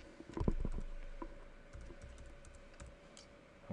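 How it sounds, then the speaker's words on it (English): Keys on a computer keyboard are tapped in a quick cluster of close clicks, followed by a few sparse, quieter keystrokes against a faint room hum. "And then I'll type these three things."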